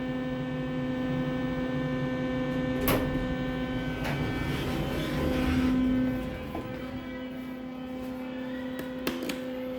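Otis Series 1 elevator in a Sandestin condominium moving upward: a steady electrical hum with a low motor drone that swells and then eases off, plus a few faint clicks and ticks from the car.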